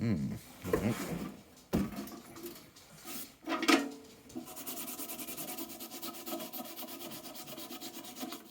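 Yellow paint is scraped from a wooden top box, first in a few heavy, uneven strokes and then as fast, continuous rhythmic scratching up close, with some background talk.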